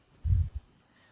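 A computer mouse button gives a single short click, close and dry in a quiet room.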